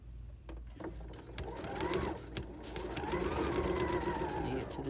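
A sewing machine back stitching a replacement zipper into pants, a rapid mechanical whir that starts and stops briefly, then runs steadily and grows louder, close by with no talking.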